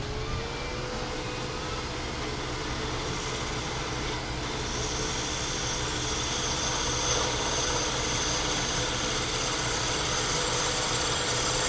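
A wood lathe spins hard wood while a bowl gouge makes a push cut, a steady droning hum with a continuous cutting hiss, loud and even throughout.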